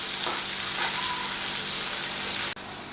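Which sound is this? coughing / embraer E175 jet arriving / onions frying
onions frying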